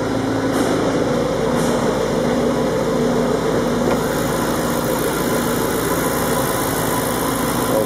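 A V8 engine idles with a steady, deep rumble, continuous and close by, with a constant low throb and mechanical hum and no voices.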